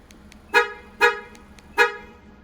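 Mazda horn chirping as the car is shut off with the factory remote key fob: three short, loud toots spaced about half a second apart, each fading quickly, with faint low rumble between.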